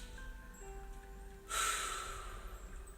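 A deep belly inhalation during a yoga breathing exercise, a sudden close airy draw of breath that starts sharply and tapers off over about a second, heard alone over a faint steady hum.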